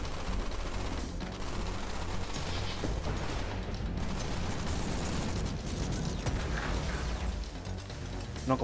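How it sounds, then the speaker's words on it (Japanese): An explosion in the video game Black Future '88 rumbles amid dense, continuous game noise of gunfire and mechanical clatter, loud and sustained throughout with several sharp bursts. "なんか爆発した。"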